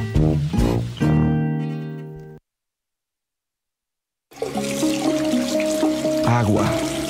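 Water pours in a broad, rushing wash, mixed with steady musical tones. A stretch of complete silence breaks up the sound partway through.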